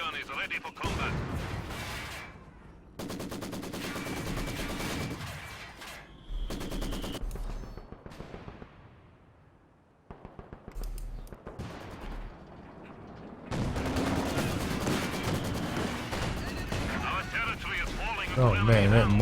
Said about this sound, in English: that mortar, look at the range on that thing